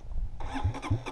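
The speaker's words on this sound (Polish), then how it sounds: "Całe szczęście, że mi odpalił." A dirt bike engine kicks into life in winter snow, a short burst of sputtering combustion that catches into two quick loud pops and a rough, close running note.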